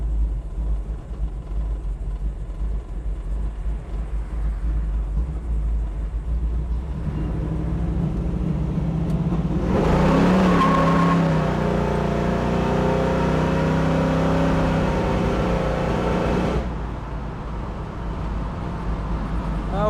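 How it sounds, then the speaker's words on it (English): A 1969 Chevrolet Camaro muscle car with a 383 stroker V8 pulls hard through traffic, its deep rumble swelling into a louder, sustained acceleration roar midway before easing back to a steady cruising drone. "Plenty of pickup out of this 69 Camaro. 383 stroker."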